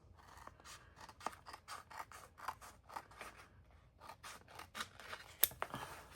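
Scissors snip through Tech Wrap glitter vinyl in a steady run of close, crisp cuts, each slice a short bright crunch, with a brief pause midway before the cutting resumes.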